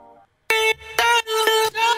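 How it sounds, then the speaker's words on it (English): A future house vocal chop fill in Don Diablo style: four short, bright, pitched vocal stabs in a quick rhythmic burst after a brief gap, clean and upfront with no other talk. "I added this small vocal chop fill before the drop"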